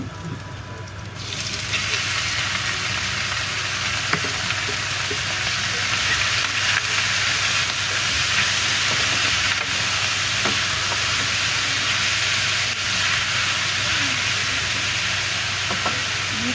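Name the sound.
meat frying in a pan for papaitan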